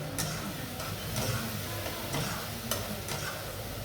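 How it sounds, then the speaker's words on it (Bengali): Fried potatoes are stirred together with a cooked spice masala in a pan, a quiet continuous sizzle broken by a few sharp spatula taps and scrapes, no voices. "আলু আর মশলা একসাথে কষাবো আমি।"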